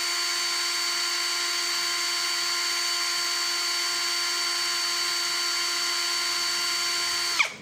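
An NRT Pro DC743 cordless brushless impact drill runs steadily in gear 1, drilling mode: a loud, even motor whine with a high tonal hum held for about seven seconds, then spinning down abruptly at the end.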